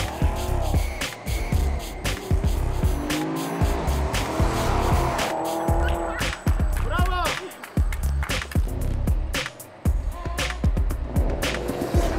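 Sports cars racing at close range, a Porsche Panamera with 460 horsepower among them, engines roaring with repeated sharp tire squeals and skids, loud and continuous, with voices talking over the action.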